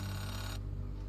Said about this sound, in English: Payphone ringing in the wild?